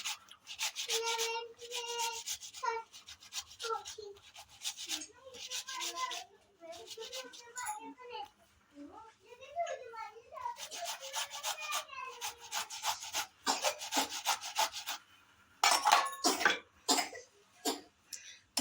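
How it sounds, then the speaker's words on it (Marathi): A cucumber is grated by hand for a Konkan-style sheera, giving a run of close, rhythmic rasping strokes that come in quick bursts with short pauses between them. No one speaks. "आता काकडी किसून घेते हळूहळू किसायचं नाही तर हात कापल"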